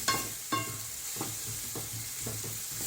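Onion frying in a pan gives a soft, low sizzle, with several light scrapes or taps at a loose rhythm over about three seconds, quiet and close, no voices.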